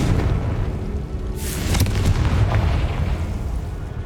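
A fiery Confringo blasting spell explodes in the Hogwarts Legacy video game, with one loud burst about a third of the way in, set over a steady rumbling game backdrop.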